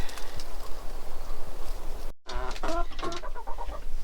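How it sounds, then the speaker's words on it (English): Chickens cluck and call nearby over steady outdoor background noise, with a brief dropout before a burst of several clucks. "Here's our chickens."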